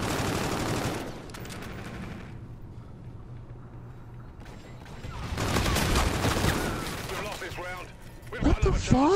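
Video game gunfire in a 2v2 multiplayer match, rapid automatic bursts crackling loudly at the start and again mid-clip, separated by a quieter stretch, with players talking over it.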